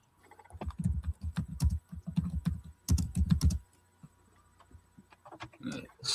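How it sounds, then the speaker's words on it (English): A computer keyboard clatters in fast bursts of close, crisp keystrokes, pausing briefly before a second flurry of typing and then trailing off into a few scattered sounds. "I hear your keyboard going crazy"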